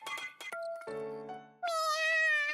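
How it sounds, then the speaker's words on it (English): A cat meows in a video game, several clear, tonal meows in a row, with the last one long and drawn out, standing alone and fairly close. "A very familiar meow."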